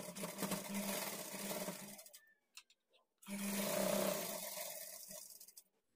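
A sewing machine stitches the lining of a blouse in two close, steady whirring runs of rapid needle strokes, separated by about a second of near silence with a few faint clicks.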